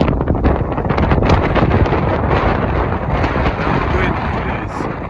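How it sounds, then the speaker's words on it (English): A strong, bitterly cold wind blows across snow-dusted Dartmoor moorland, hitting the microphone with loud, constant roaring buffets throughout. "The wind is bitterly cold."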